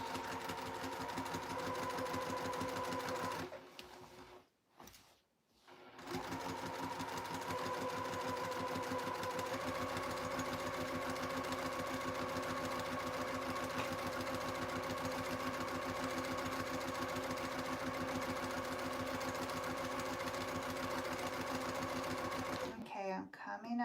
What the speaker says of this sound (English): so I'm going to back stitch over that a couple times